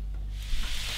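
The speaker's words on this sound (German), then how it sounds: "Nach gut 10 Minuten hören wir, wie schön das Fett aus der Cabanossi ausgelassen wird." Cabanossi sausage slowly rendering its fat in a pan over moderate heat, giving a steady, close hiss of frying with faint crackles and no voices.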